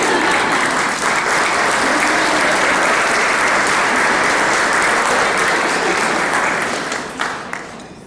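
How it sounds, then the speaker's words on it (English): An audience at a donor and volunteer event breaks into loud, sustained applause. The clapping stays full and even for about seven seconds, then thins into a few scattered claps. "So let's give a big round of applause to Karen Johnson"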